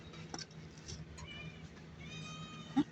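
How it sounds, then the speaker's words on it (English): A mother cat outdoors, hungry and being fed, gives a drawn-out meow late in the clip, fairly close and clear over steady outdoor background noise. "this is the mother cat"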